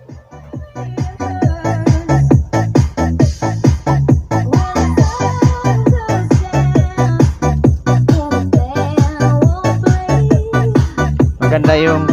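Loud music with a heavy, steady beat booms from a Bluetooth speaker box, the bass thumping in a regular rhythm throughout with no talking.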